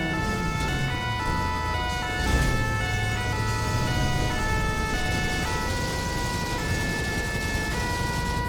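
Fire brigade emergency vehicle siren in a video game, with a steady cycling electronic wail over a layered drone of overlapping sirens and engine hum, loud and continuous throughout.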